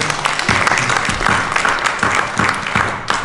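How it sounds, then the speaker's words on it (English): Loud audience applause at a film premiere screening, dense steady clapping filling the whole stretch with no talk over it. "Even clapping for that."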